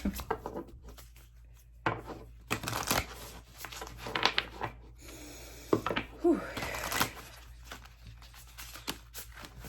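Crisp riffling and slapping of playing cards being shuffled close by, in irregular bursts with brief pauses.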